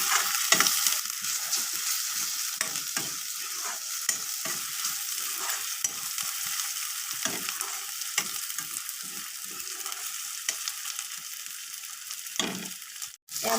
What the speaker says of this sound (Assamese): মই ভালকৈ আদা নহৰুখিনি আ�ৰু পিঁয়াজখিনি আৰু অলপ ভাজি ল'ম।